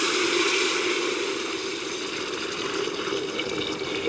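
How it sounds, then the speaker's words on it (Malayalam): Cooking water from boiled guinea fowl is poured into a pot, making a steady, soft rushing trickle of liquid that stays fairly faint and even throughout, with no voices. "ഇതിനകത്തോടെ നമുക്ക് ഗിനിക്കോഴി വേവിച്ച വെള്ളം ഒഴിക്കാമേ."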